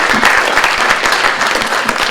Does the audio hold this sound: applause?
yes